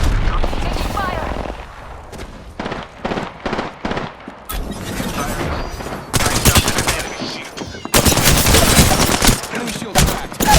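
Heavy gunfire in a video game battle: clusters of sharp shots early on, then long, loud, dense bursts of automatic fire, close and punchy, with spoken callouts layered over the shooting.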